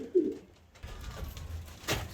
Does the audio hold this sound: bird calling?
yes